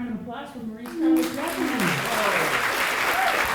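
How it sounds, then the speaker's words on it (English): Applause swells up after a brief stretch of voices, then continues as a steady wash of clapping from an audience. "one more round of applause for Maurice Carlos"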